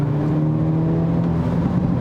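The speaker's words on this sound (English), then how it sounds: "going through a tunnel and listening to that exhaust just crackle and pop" Exhaust of a Hyundai Elantra N turbo sport compact sedan rumbles inside a tunnel, a loud, close, steady low drone with faint irregular crackle, brief and without talk.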